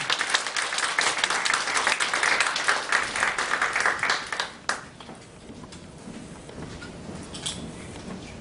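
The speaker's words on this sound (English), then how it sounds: "So if we can all give her a round of applause and welcome her for the next show." Applause from a women's day symposium audience welcoming a speaker to the stage, dense and steady for about four seconds before thinning out and fading into scattered claps and room noise.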